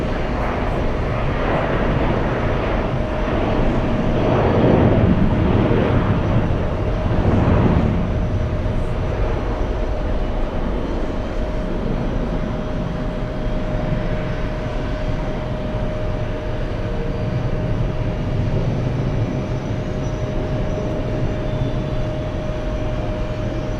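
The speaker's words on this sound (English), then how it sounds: "It's the flight from Romania, flying in from Bucharest." A passenger airliner inbound from Bucharest, Romania, arriving at New York's JFK airport, heard as a steady broadband jet roar with a sustained engine tone, swelling briefly early on and then holding at a constant level throughout.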